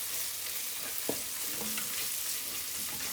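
Chopped onions fry in a pan for a brinjal bhajee, a steady close hiss of sizzling oil with a brief scrape of a utensil partway through.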